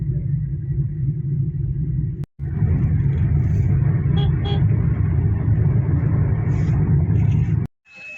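A car engine rumbles steadily and close by while vehicles are being parked, a constant low drone broken by two brief cuts, with faint voices in the background.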